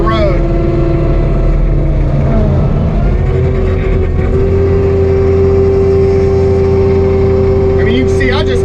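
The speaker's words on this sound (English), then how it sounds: "I just cut halfway through that stump, and the disc wasn't even at full RPM when I did it." A disc mulcher runs as a loud, steady machine drone while cutting through a large pine stump in a dirt road, its pitch rising partway through and holding high as the disc spins up.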